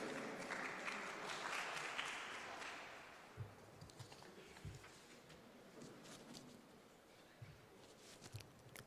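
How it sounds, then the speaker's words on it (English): A crowd at a car showroom inauguration applauds, a dense round of clapping for about three seconds that thins into scattered claps and taps, fairly faint and distant. "Please give a big round of applause for them also."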